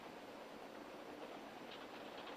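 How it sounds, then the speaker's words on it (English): A train in an old western drama rolls along steadily, its broadband rumble and rattle filling the scene at an even, continuous level with no voices over it. "Do you know what this train is?"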